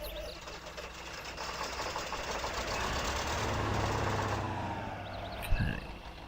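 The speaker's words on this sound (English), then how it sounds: "Right, we'll start the engine on this." A truck engine in the off-road driving game Spin Tires runs with a steady low rumble and mechanical clatter throughout, ending with a brief thump.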